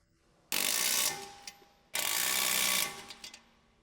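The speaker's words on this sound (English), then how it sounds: "Use a 19mm deep socket with electric impact to tighten." An electric impact wrench with a 19mm deep socket tightens nuts while camber plates go onto a 2002-2007 Subaru Impreza. Two loud, close rattling bursts are separated by a brief pause.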